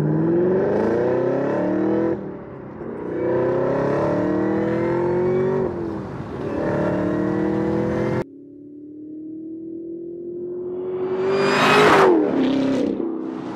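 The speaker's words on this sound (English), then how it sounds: "This exhaust completely changed this car." A Chevrolet Camaro ZL1 1LE's AWE Tuning exhaust revs repeatedly, rising and dropping in pitch in loud bursts, then one long climbing rev peaks with a sharp crackle.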